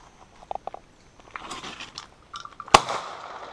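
A Browning Silver Hunter 12 gauge semi-auto shotgun fires a single sharp report outdoors, quick and somewhat distant. Faint handling clicks and rustles come before it.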